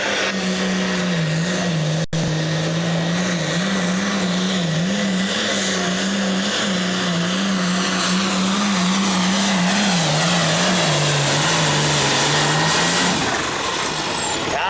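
A loud 6,500-pound light limited pulling tractor engine roars steadily at high revs for the whole stretch at a tractor pull, its pitch wavering slightly, then drops off near the end.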